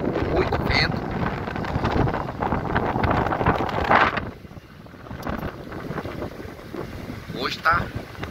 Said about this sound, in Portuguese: tá vindo um temporal muito grande, muito vento.